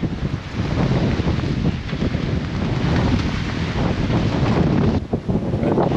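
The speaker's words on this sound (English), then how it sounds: "And it's very windy." Strong wind of about 26 knots roaring and buffeting at sea aboard a sailboat in the Bahamas, gusting noise throughout with a rushing, blustery texture and a brief dip near the end.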